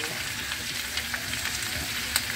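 Pork igado frying in a pan while it is stirred, a busy close sizzle with scattered soft scrapes and small crackles and no one speaking.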